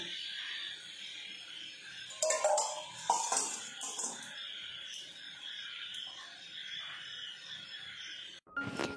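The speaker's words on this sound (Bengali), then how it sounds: "ঝিঝি পোকার আওয়াজ শোনালাম সন্ধ্যেবেলা" Evening insect chorus, a steady high continuous buzzing drone of crickets in the background, with a few louder nearby knocks and rustles interrupting it partway through and again at the end.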